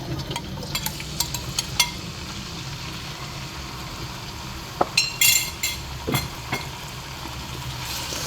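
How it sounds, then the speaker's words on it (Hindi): Chicken pieces frying in half a cup of oil in a pan for palak gosht, a soft sizzle beneath scattered clinks and scrapes of utensils against the pan, close by with no talk. "जब तक ये चिकन फ्राई हो रहा है"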